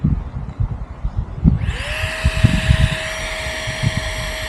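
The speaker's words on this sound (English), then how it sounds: "Put it on a little nozzle that's blowing the air out." An electric air pump starts up after some rustling and knocking, then settles into a steady high-pitched whine and hiss of air blowing out through a small nozzle, close and loud, at a wild camp in the Lake District.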